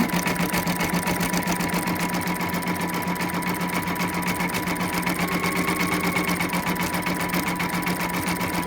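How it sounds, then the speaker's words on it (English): A Baby Lock Spirit embroidery machine stitches a satin stitch at a steady rapid whirring rhythm, loud and close, with no pauses. "I'm running a Baby Lock Spirit. So it's doing that satin stitch around the blue."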